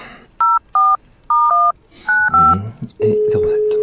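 A telephone number is keyed in on a phone, a series of short, evenly spaced DTMF beeps, followed by a little rustle and then a steady tone, all close and clear with no talking.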